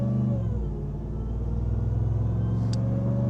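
Ram TRX pickup truck engine idling and revving with a low, steady rumbling drone that swells slightly, close and loud with no talk over it.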